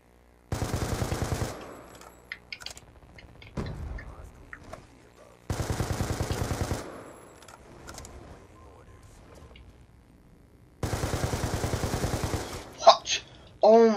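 Three bursts of rapid automatic gunfire rattle in a shooter video game, each a loud, close volley lasting a second or two, separated by quieter stretches with scattered small clicks and ticks.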